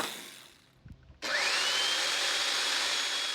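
A power saw fitted with a wood blade spins up abruptly after a few faint knocks, then runs at a loud, steady high-pitched whine while cutting wood.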